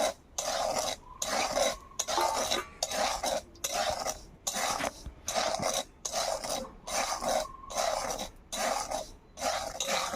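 Salt mixed with pepper, cumin, chili and coriander powders is stirred in a pan with a spoon, making rhythmic scraping strokes in repeated bursts with brief pauses between them.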